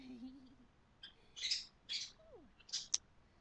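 Birds chirp in The Sims 4 video game: several short, bright bursts spaced irregularly over a quiet background, plus one brief lower call, all fairly soft.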